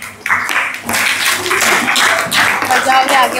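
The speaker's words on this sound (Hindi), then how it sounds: "जोरदार तालियां बजाएंगे" Schoolchildren at a young poets' recitation event clap in a loud, close, uneven burst, with voices mixed in among the claps.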